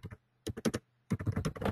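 Typing on a computer keyboard while entering a blog category name, heard as short close bursts of rapid key clicks separated by brief pauses.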